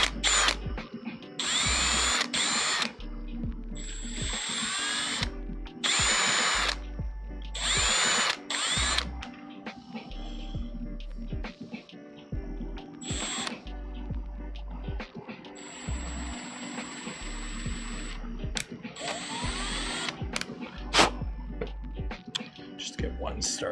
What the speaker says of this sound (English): So let's drill out some screws.